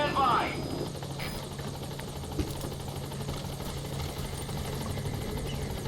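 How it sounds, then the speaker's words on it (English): Helicopter rotor drone from Metal Gear Solid V as the support chopper arrives, a steady mechanical hum running throughout under game ambience, with a brief louder burst at the start. "Support helicopter has arrived."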